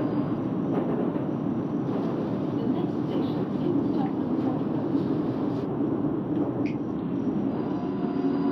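A London Underground Northern Line train in the Open BVE simulator game rumbles along steadily with a constant low roar and faint clicks, unbroken and fairly loud throughout.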